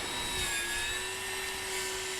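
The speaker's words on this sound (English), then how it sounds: "That noise you can hear is Carol over there strimming." A strimmer runs outdoors by an Irish cottage, a steady high-pitched whine with a constant tone held throughout, sounding somewhat distant, with no talking.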